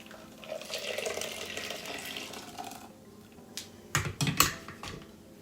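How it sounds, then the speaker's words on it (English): Blended nuts and water poured from a container into a nut milk bag over a bowl, a soft liquid gush for about three seconds, then a few sharp clinks and taps, fairly quiet and with no talking. "I'm going to pour the contents of the nuts blended with water into the nut bag."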